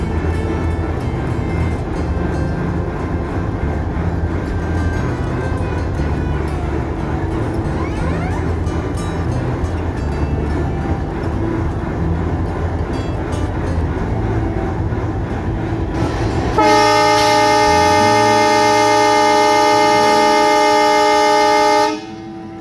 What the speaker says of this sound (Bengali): নির্ধারিত 2 মিনিটের যাত্রা বিরতি শেষে রাজশাহী অভিমুখে ছেড়ে যাচ্ছে আক্কেলপুর রেলওয়ে স্টেশন থেকে